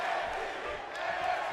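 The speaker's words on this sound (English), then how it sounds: "The crowd coming alive." Video game wrestling crowd roaring from an arena in WWE 2K18 during an NXT match between Pete Dunne and Drew McIntyre, a steady dense wash of cheering throughout with no pauses.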